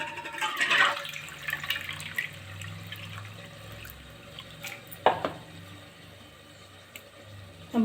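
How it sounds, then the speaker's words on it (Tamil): Tamarind water is poured over rice and tomatoes in a pressure cooker, giving a soft, steady splashing trickle with a louder splash near the start and another partway through. "இப்போ 2 கப்பு புளி தண்ணி ஊற்றிக்கலாம்."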